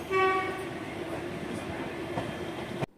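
The Coimbatore–Tiruchendur train rolls into Tirunelveli Junction with a brief horn blast at the start, followed by a steady low rumble of wheels and carriages that cuts off abruptly near the end.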